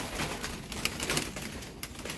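Doves coo softly in the background at a bird-breeding setup in Cam Lâm, Khánh Hòa, under a dense, noisy wash of ambient sound and a few sharp clicks.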